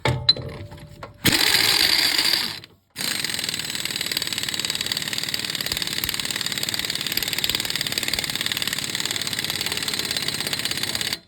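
A power tool runs the pinion nut onto a Ford 8.8 Mustang differential with a fast, loud mechanical rattle, pausing briefly after a short burst and then chattering on steadily for several seconds.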